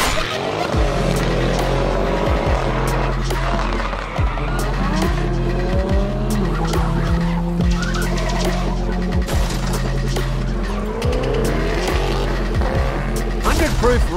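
Custom diecast toy cars race and skid around a track, with engine-like whine, tire-squeal sounds and sliding scrapes through turns, continuous and loud, under an excited commentator's voice.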